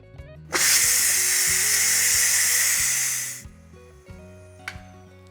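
Steam blasting out of an electric pressure cooker during an immediate release after cooking collard greens: a loud, steady broadband hiss for about three seconds that then cuts off, leaving quiet kitchen background.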